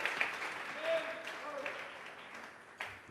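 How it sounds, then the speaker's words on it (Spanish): Church congregation clapping as an offering of praise during an evangelical service, a moderate wash of many hands with a few sharper individual claps, heard somewhat distant with faint voices mixed in. "Vamos a regalarle ofrenda de palmas al Dios de la gloria"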